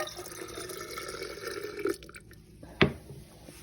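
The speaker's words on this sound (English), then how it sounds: "So I'm going to add our cup of water." A cup of water poured into a jar of sourdough starter, a short gurgling pour followed by a sharp splash or drip, fairly close and alone.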